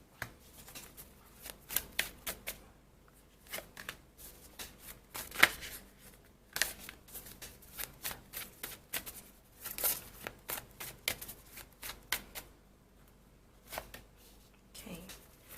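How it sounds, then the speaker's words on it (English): A deck of tarot cards being shuffled by hand, with quick riffling and soft slapping bursts that repeat irregularly, close and fairly quiet. "I'm going to pull 3 cards."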